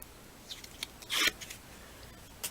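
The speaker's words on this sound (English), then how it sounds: "so I'm going to peel off the backing." Short papery crinkles and one brief tearing rip as the plastic backing is peeled off a new cling rubber stamp, close and quiet, with a few light clicks scattered around it.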